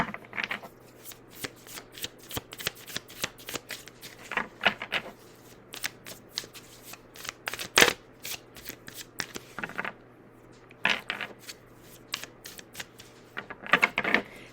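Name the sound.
shuffling tarot cards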